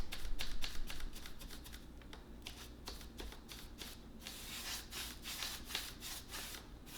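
Brush strokes of chalk paint over a stain-blocking primer on furniture, a dry scratchy bristle rubbing in repeated close strokes, steady and fairly quiet with no talking.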